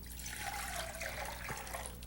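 Water pours into a cooking pan in a short, steady trickling stream, quiet and close, ending with a small splash near the finish.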